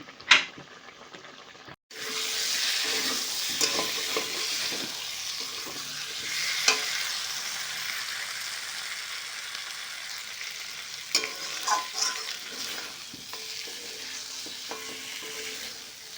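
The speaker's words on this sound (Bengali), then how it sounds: "মাংসটা কষানো হয়ে গেছে এখন দিয়ে দেবো ঝোল" Meat frying in a pan on a steady loud sizzle, with a spoon stirring and scraping through it and occasional clinks against the pan, after a brief quiet start.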